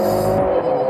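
Hyundai Veloster N with a 2-liter turbocharged four-cylinder, its exhaust droning loud and steady with a sustained engine tone throughout, heard up close from a car being driven hard through corners.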